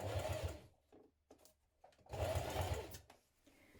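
A sewing machine top stitches through thick, layered backpack fabric, running in two steady bursts of rapid stitching separated by a pause with a few soft clicks and taps.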